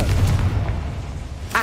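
Confringo blasting spell going off in Hogwarts Legacy, a deep low boom that rumbles through the opening and fades, then a brief sharper burst near the end, with no speech over it.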